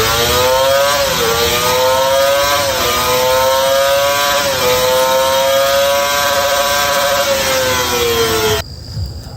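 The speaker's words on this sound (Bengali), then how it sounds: "আপনারা যে বাইকটার টপ স্পিড দেখলেন এটা হচ্ছে কাওয়াসাকি ZX 250R এর টপ স্পিড" A Kawasaki ZX-25R motorcycle screaming at top speed: a loud, high-pitched engine wail that sags briefly several times as gears change, then climbs again, continuous until it cuts out near the end.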